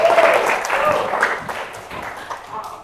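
Students in a history classroom clap briefly together, a short uneven round of applause that fades quickly, with some voices mixed in.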